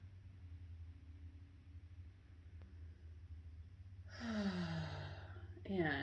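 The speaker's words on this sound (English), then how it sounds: "Maybe take a breath." A person in a guided body-awareness practice takes a slow, deep breath, heard as a long close sigh-like exhale near the end, over a steady low room hum.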